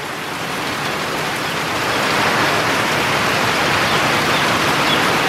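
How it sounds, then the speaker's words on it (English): Heavy rain from a fast-arriving Florida storm drums steadily on a shed roof, a dense, loud wash of noise that swells slightly louder after the first two seconds, with no voices. "This is a Florida storm, and it came in really quick."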